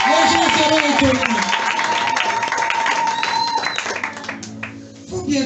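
A church congregation claps and cheers during a service, sustained loud applause filling the room with a voice and sung tones running over it before it tapers off near the end.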